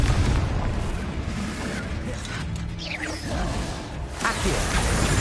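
Confringo fire-spell blasts in the Hogwarts Legacy video game, with dense booming bursts mixed with clanking, creaking mechanical game effects and a faint voice underneath.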